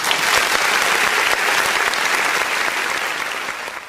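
Dense applause from a large crowd, loud and continuous for four seconds without pause, with no voices over it.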